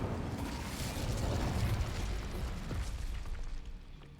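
An Incendio fire spell cast in Hogwarts Legacy roars out as a sustained, loud whooshing burst of flame that swells and then tapers away over a few seconds, with no talking over it.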